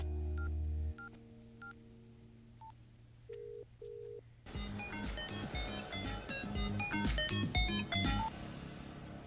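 Telephone keypad DTMF tones, a few isolated beeps at first, then a rapid, busy run of dialing tones mixed with other layered sound.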